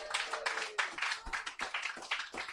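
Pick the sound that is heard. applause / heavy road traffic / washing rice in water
applause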